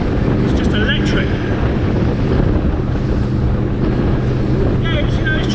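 A Saxdor 200 Sport motorboat runs through a choppy head sea, giving a loud, constant roar of wind buffeting and rushing water with a few brief thumps as the hull meets the chop.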